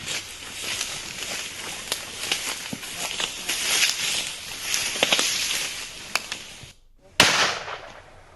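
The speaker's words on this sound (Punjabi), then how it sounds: "ਜਿਵੇਂ ਕਿ ਤੁਸੀਂ ਦੇਖਿਆ ਕਿ ਕਿਵੇਂ ਫਾਇਰਿੰਗ ਹੋਈ" Gunfire during a police encounter with criminals in Jalandhar, Punjab: a string of sharp cracks and pops scattered over a noisy outdoor background, with a brief dropout near the end before one more loud report.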